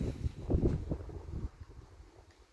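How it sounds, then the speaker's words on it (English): Wind gusts buffet the microphone outdoors beside a garden railway, a few loud low blasts in the first second and a half, then fading to a softer rustle. "But it's quite windy."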